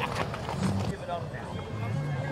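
Horses' hooves clip-clop during a cavalcade parade in Mazatlán, soft and steady beneath loud nearby conversation and crowd noise.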